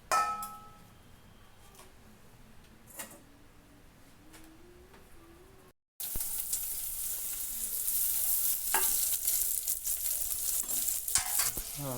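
Coriander and tomatoes fry in oil with scattered utensil clinks at first, then a brief cut gives way to a loud, steady sizzle and hiss as they are stirred, close and without talk.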